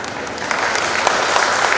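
An audience at a public speech claps steadily in a dense, continuous burst of applause that fills the room.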